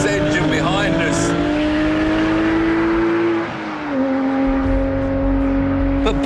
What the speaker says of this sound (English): You can never not enjoy the sound of that historic flat-six engine behind us.